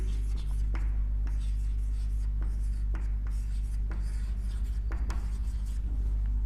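Chalk or marker strokes on a board during a maths lesson on relations, quiet scratchy strokes in short bursts over a steady low hum, with no talking.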